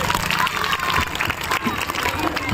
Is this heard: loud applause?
yes